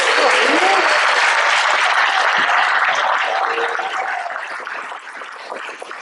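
Sustained applause fills a hall at a school fall awards ceremony, a dense roar of many clapping hands that slowly tapers off toward the close.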